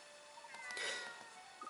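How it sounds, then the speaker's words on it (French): A small cat in Layton's Mystery Journey gives a single short, faint meow over quiet game background music, rising briefly and fading within about a second. "regardez ce petit chat"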